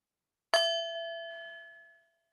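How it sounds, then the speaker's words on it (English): A single struck gong rings out, with a sharp attack followed by a clear, bright tone that fades steadily over about one and a half seconds into silence. "So the sound of the gong marks the transition"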